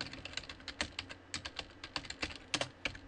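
Fingers type on a computer keyboard close by, a quick uneven run of crisp key clicks with short pauses, heard alone without talk.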